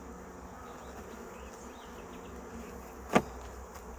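Honey bees at an open hive while a mated queen is being introduced give a steady, faint buzzing hum, broken by one sharp click near the end.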